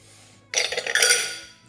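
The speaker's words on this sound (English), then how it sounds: "you're gonna whisk this together just to blend it" A whisk clatters briskly against a bowl, blending flour, baking powder, salt and brown sugar; a short, close burst of scraping and clinking after a quiet start.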